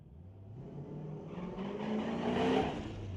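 Camaro rolling up to the drag strip for a street-legal outlaw class at Mission Raceway Park, engine rumble swelling from moderate to louder as it nears, with no talking.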